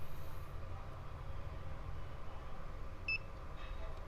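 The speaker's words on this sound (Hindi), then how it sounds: "ये देखिए थोड़ी सी बीप साउंड आती है, आपको भी आई होगी" A capacitor under test during repair of an RO water purifier's power supply gives one short, faint, high beep partway through, over a low steady hum.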